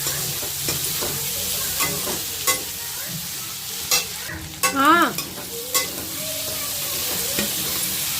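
Rice frying and being stirred in a pan of mustard oil with cumin, asafoetida and onion, a steady close sizzle broken by scraping stirs. A brief voice speaks partway through.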